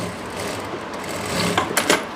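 Sewing machine stitching a seam on palazzo pants, a short burst of rapid mechanical clatter, close and fairly loud, with no talking.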